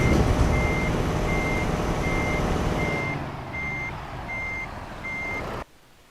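Truck in the Euro Truck Simulator 2 game rumbles as it starts while a steady series of evenly spaced reversing beeps sounds over it, the engine noise dropping partway before cutting off abruptly near the end.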